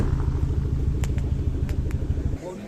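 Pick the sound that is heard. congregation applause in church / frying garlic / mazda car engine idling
mazda car engine idling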